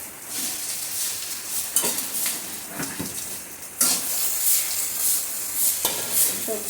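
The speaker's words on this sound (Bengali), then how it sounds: "এখন দিয়ে দিচ্ছি আলুটা।" Potatoes added to a pan with spiced masala and vegetable stalks, frying with a steady hissing sizzle while a spoon scrapes and clinks against the metal pan at irregular intervals.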